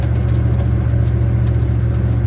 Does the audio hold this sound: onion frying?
no